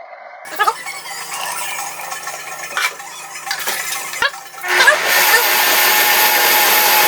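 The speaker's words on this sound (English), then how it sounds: "If you don't plug the blender in, it will not work well." A kitchen blender whirring through lobster bisque: scattered clatter and handling knocks with some talk give way to a loud, steady whirring roar that runs through the final two seconds.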